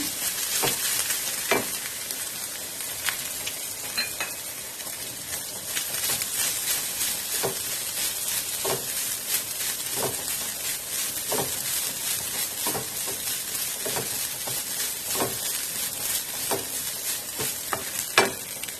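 Coconut and raisins fry in a pan for Malabar unnakkaya, giving a steady dense sizzle with periodic scraping stirs, close and continuous with no talking.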